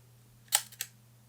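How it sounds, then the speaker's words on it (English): A Yashica 635 twin-lens camera's leaf shutter fires at 1/500, one crisp mechanical click followed by a fainter second tick, close up against a quiet background hum. "it's not a focal plane shutter, it's a leaf shutter, it's in the lens"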